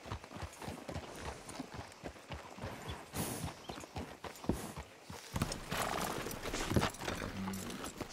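Horse hooves clop steadily along in Red Dead Redemption 2, with a couple of whinnies and snorts breaking through near the middle and end.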